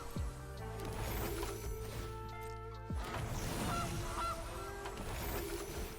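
Goose honking rings out in a video game, several loud cartoonish honks layered over busy game sounds and a low musical drone, with a sharp crash-like hit near the middle.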